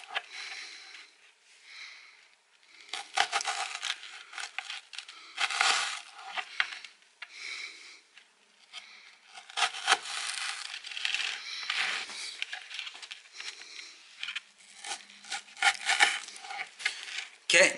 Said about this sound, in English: Just let the knife do all the work.